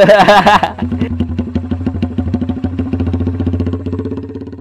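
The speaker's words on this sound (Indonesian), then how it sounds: "di free flow kan ya betul nggak ada sekatnya nih jadi suaranya nih" A modified Honda GL motorcycle with a free-flow exhaust idles close up with a steady, lumpy putter after a short burst of talk at the start.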